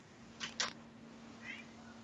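A pet cat gives two quick, close meows, then a softer third call a moment later, over quiet indoor background hum.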